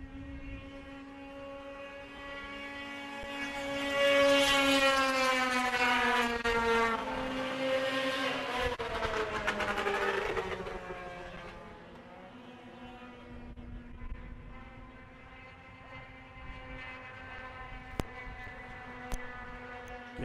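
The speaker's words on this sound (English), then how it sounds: "Great race into turn three and four here in your Women's Formula 500 final." Women's Formula 500 race cars in a final, engines whining as they rise and fall in pitch while sweeping through turns three and four, a loud pass that fades to a more distant drone.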